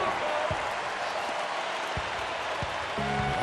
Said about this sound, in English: How about the intensity and focus of the crowd here? So loud in this place.